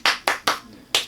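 Four crisp hand claps ring out close and loud, evenly spaced with a short pause before the last one, alone with no talking.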